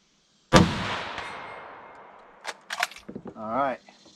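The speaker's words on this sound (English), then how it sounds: "We're shooting at 160. 303 British, 1915 rifle." A single sharp rifle shot from a 1915 SMLE No 1 Mk III chambered in .303 British cracks loudly up close and rings out in a long fading echo, followed by brief clicks and a short stretch of talk.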